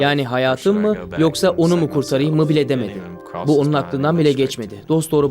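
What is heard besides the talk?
None of the usual background noises is heard.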